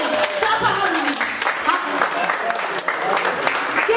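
An audience claps at a community gathering. The applause is fairly loud and continuous, with a voice speaking over it the whole time.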